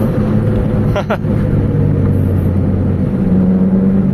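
Toyota Corolla with a 2E engine and a low-power fault, driving along with a steady, close mid-pitched engine drone throughout and a brief rise around one second, while people talk over it.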